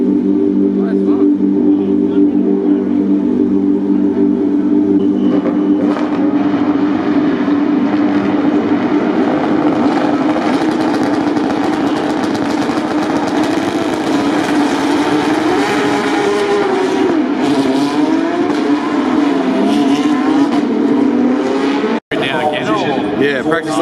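A race car engine idles high at a racing event, giving a steady, loud, droning hum that holds throughout, while people talk over it nearby.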